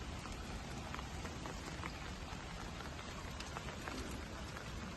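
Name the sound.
rain falling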